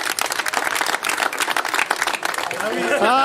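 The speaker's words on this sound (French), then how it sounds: "On peut applaudir très fort" An outdoor crowd at a soapbox derby race claps for a winner, a brisk, scattered round of applause mixed with chatter and a voice over a loudspeaker.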